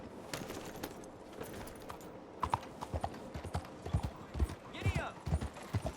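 Horse hooves clip-clop on the ground in the Red Dead Redemption 2 game, with a steady rhythmic run of hoofbeats mixed with other game sounds and voices.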